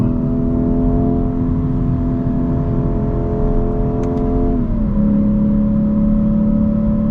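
The Lexus IS500's V8 hums steadily from inside the cabin as the car drives, a loud sustained engine drone that holds even and then drops slightly in pitch near the end as the car shifts or eases off.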